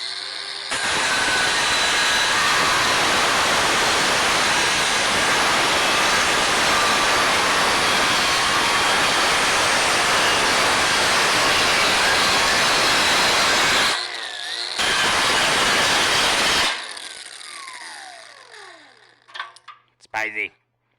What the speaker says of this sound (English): cut some aluminum with a grinding wheel made for steel